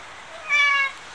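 A single short, clear cat meow, close by, rising and falling over about half a second against quiet background.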